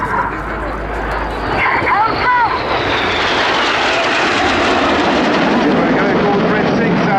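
Jet aircraft roar low overhead at the Cosford air show, a loud swelling rush that builds and sweeps past, with a commentator speaking over the noise.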